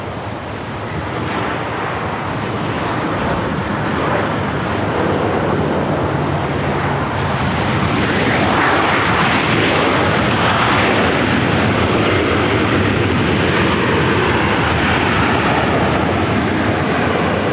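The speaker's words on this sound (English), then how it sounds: "I believe we have a 787-8 Dreamliner" A Boeing 787-8 Dreamliner jet at LAX in rough weather makes a loud, steady, broad engine roar that builds slightly and holds for many seconds, with gusty wind buffeting the microphone throughout.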